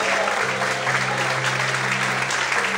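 Church congregation applauding during a sermon, a dense steady wash of clapping hands filling the space, loud and continuous with a low hum beneath.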